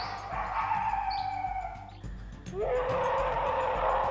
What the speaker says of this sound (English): It sounds more like a dog howl.